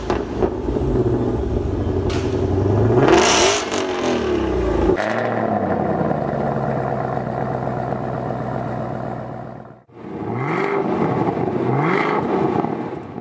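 A Mustang GT500 and a Camaro ZL1 rumble loudly, with a hard rev swell, then a lower steady burble that cuts out briefly before another engine picks up with rhythmic revving.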